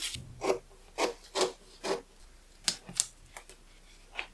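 Scissors snip through a drafted wedding dress pattern in a series of crisp, separate cuts, about eight distinct strokes at an uneven pace, close and quiet with no talk.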